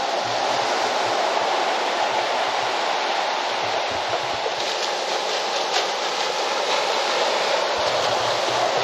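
Sea waves roll and break on the beach at Dublagadi, Balasore, Odisha, a steady, loud, unbroken roar of surf with no talk over it.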